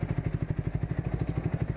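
A Triumph Speed 400 motorcycle engine idles nearby with a steady, even thumping pulse, quick regular firing beats throughout with a light mechanical clatter.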